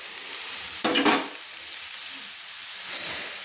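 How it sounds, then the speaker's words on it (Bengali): Sliced onions frying to a reddish brown in a pan for a papaya dalna curry, with a steady hiss of sizzling oil and a brief burst of stirring near the start, close by and without talk. "এবার পেঁয়াজগুলোকে আমি একটু লাল লাল করে ভেজে নেব।"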